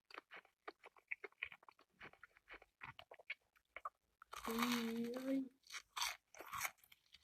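Crunchy food is bitten and chewed in a burst of loud crackling crunches lasting about a second, set among sparse clicks and mouth sounds, with a brief vocal hum over the chewing.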